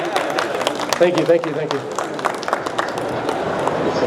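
An audience claps after a talk, scattered sharp claps that carry on steadily beneath a speaker thanking them.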